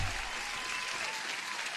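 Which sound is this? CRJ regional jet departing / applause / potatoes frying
applause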